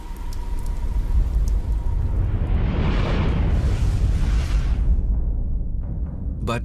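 Steady broadband rain hiss at constant loudness, swelling in the middle with a roaring wash, with no voices, a dense downpour imagined as falling on another planet.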